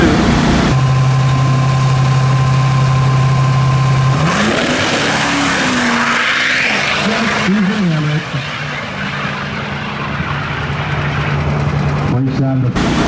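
A drag race car with a completely stock engine, rotating assembly and heads idles steadily, then revs up and settles back. The sound is close and loud, with someone talking over it.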